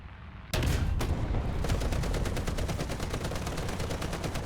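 Tank-mounted anti-aircraft machine gun firing in a video game, a sudden loud onset followed by a rapid, steady stream of sharp shots that carries on without pause for several seconds.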